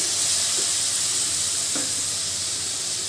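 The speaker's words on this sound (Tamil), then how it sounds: "2 தக்காளி பழம் வந்து நான் கட் பண்ணி வச்சுருக்கேன், அதை சேர்த்துக்கிறேன்." Chopped tomatoes frying in hot oil with masala for a squid gravy, a steady loud sizzle and hiss running unbroken throughout, close up, with faint stirring touches and no voices.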